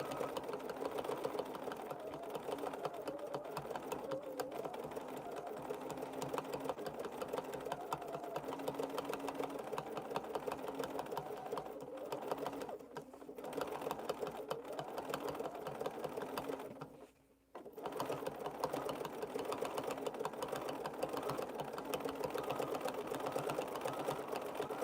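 A sewing machine runs steadily while stitching coiled rope into a fabric rope bowl, a continuous close mechanical whir with one brief pause near the end and no talk.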